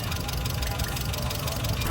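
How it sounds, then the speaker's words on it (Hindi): A newly rebuilt car engine idles steadily with a fast, even ticking running through its continuous hum, close and moderately loud, with no talk over it. "ये आवाज़ मुझे बिल्कुल पसंद नहीं आ रही है। टिक टिक टिक टिक।"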